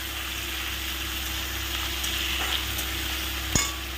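Thin-sliced potatoes and onion sautéing in a pan, a steady soft sizzle with faint stirring scrapes and one sharp clink near the end.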